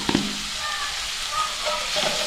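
Tomato and onion frying in a pan for misal on a terrace, giving a steady close sizzle with a faint stir or clink near the start, no talk.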